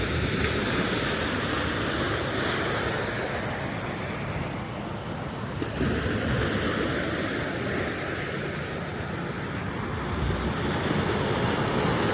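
Sea waves surge and wash steadily along the Coastal Road shore of Macajalar Bay, Cagayan de Oro, with gusty wind buffeting the microphone during a typhoon; continuous and fairly loud, with no voices.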